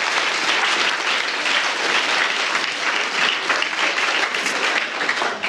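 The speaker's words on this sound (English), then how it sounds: "So let's have a round of applause for white magnesium." Loud, dense crowd applause at a quiz show, many hands clapping in a continuous close wash that stays steady from start to finish.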